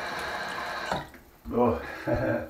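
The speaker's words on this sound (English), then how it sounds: "Get some cold water on there" Cold water from a tap splashing onto a freshly shaved face in a sink, a few brief wet splashes broken by short pauses, a voice making a small exclamation.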